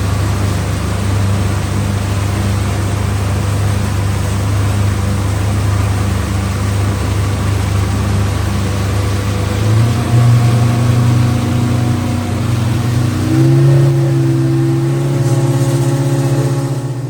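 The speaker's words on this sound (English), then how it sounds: "the twin 50 horsepower Mercury engines were running" Twin 50 horsepower Mercury outboard engines drive a boat on a stream leading to the Chobe River. A steady low drone runs throughout and rises in pitch as the throttle opens near the end, close and loud with no talk.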